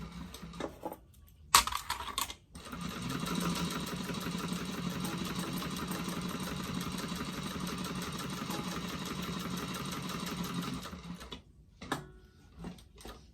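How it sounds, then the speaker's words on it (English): A sewing machine stitches a bag's seams, running in one steady, continuous burst of rapid mechanical whirring and needle chatter for about nine seconds, with short start-and-stop backstitch pulses at the beginning and end, close and loud. "And back stitch when you start and stop."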